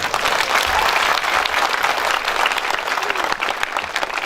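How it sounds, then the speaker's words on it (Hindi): Sustained, dense audience applause at a poetry gathering, loud and steady throughout with no speech on top. "आप कितना ताली बजाते हो, एक बार बजा के बताओ"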